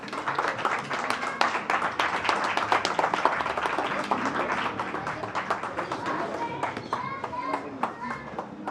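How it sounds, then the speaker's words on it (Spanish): Audience applause follows the end of a talk at a political forum on public debt, a dense steady patter of many clapping hands filling the room, with children's voices and chatter mixed in underneath. "Pues otro aplauso a la compañera Mónica."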